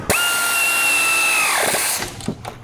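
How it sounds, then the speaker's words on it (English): A power tool, likely an impact or drill driver, tightens the three upper strut nuts on a 2021 Ford Bronco during a leveling kit install, giving a loud steady whine for about a second and a half that then winds down into clanks. "now we're going to tighten the upper 3 strut nuts"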